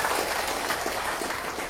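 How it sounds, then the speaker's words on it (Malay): An outdoor waterfront crowd at a public programme applauds young leaders with a brief, steady wash of clapping that stays moderately loud and even throughout. "Bagi tepukan kepada mereka semua."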